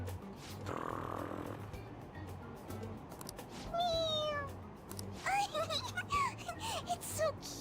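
An in-game cat in Persona 5 Royal snores and meows nearby, with soft snuffling breaths followed by a rising series of high, squeaky mewing calls over faint background music.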